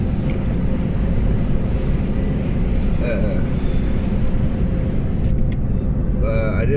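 Loud, constant low rumble of a car driving on the road, heard from inside the cabin, with faint higher noises appearing near the end.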